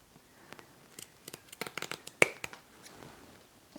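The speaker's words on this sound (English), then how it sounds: "It's better to use a larger pair of scissors so you can do one clean cut." Scissors snip ribbon for a hair clip bow, a series of quiet close crisp cuts and handling rustles with one sharper snip near the middle.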